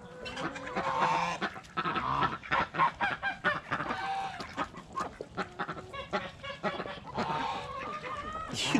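Several ducks calling near a person feeding them lettuce and corn, with loud, repeated honking quacks that overlap in uneven bursts throughout.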